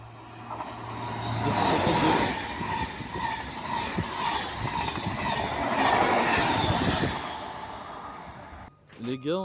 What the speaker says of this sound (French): les gars, on a un TGV.